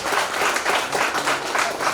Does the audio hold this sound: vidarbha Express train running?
no